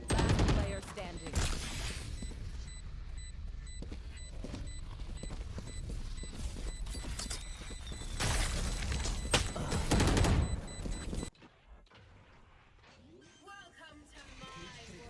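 Rapid gun spam in the tactical shooter Valorant: sustained bursts of automatic gunfire for about eleven seconds, loud and close, stopping abruptly and leaving quieter game ambience.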